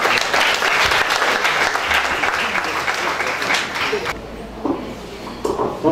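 Applause from an audience at a Spanish-language talk on autonomy fills the first four seconds as dense, steady clapping, then thins abruptly into scattered claps and murmuring.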